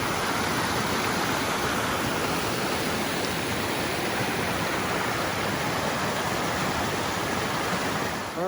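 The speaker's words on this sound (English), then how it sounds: "This is the same stream that I got water in yesterday." A rain-swollen mountain stream rushes past at close range, a loud, unbroken roaring wash of water that stays steady the whole time with nothing else on top.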